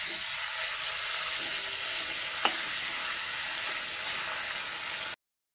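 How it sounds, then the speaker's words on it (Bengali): Chicken meat fries in a pot on a home stove with a constant, close, even sizzle and a faint clink partway through, running alone until it cuts off abruptly. "এদিকে মাংসটা ভাজা হচ্ছে"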